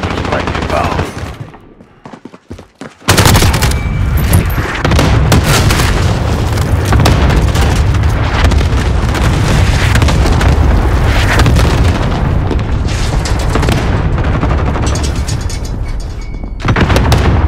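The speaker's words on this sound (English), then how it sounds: "Ally cluster strike inbound." Cluster strike explosions in Call of Duty Modern Warfare team deathmatch multiplayer, a brief hush then a dense, loud barrage of booms and rattling gunfire pounding continuously for many seconds before cutting off.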